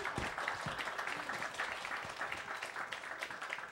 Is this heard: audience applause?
yes